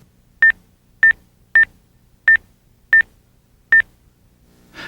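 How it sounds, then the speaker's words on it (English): Six evenly spaced keypad beeps from a 1997 Nextel phone as a number is entered, loud, clean and close, with near silence between tones. "enter the phone number and press Store"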